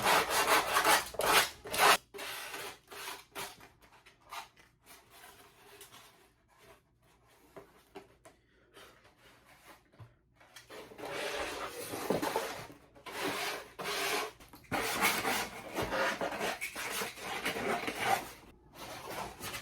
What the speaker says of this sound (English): I'm going to use a little bit of fine grit sandpaper and just kind of soften the burrs around some of these edges here